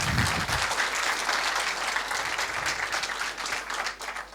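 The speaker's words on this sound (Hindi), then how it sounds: "तालियां बजती रहनी चाहिए" An audience at a Sanskrit quiz claps in a sustained burst of applause after a correct answer, moderately loud and fairly even, with a low thump at the start.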